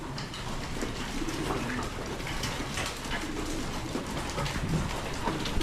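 Pigeons, including young birds, coo softly and continuously in a loft, a low murmuring chorus over a dense background of rustling and faint splashing.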